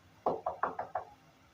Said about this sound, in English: Seconds later, an unknown man softly knocked on the door.